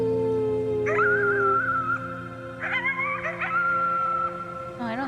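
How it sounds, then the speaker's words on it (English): Wolf-like howling toward the moon in the video game Before Your Eyes, several long rising and falling tonal howls over a low steady musical drone, clear and fairly close with no talk. "You howled at the moon at the top of your lungs."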